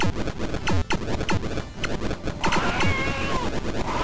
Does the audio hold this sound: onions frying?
no